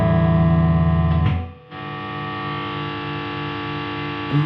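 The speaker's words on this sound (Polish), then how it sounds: "masa, masa szumów i zaczyna się feedback, zaraz będzie piszczało." Electric guitar noise runs through an ISP DECI-MATE decimator pedal setup with the volume at maximum. A loud distorted hum drops away briefly, then returns as a buzzing drone with rising feedback near the end.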